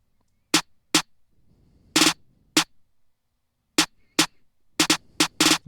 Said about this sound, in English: After that, it's the snare pattern.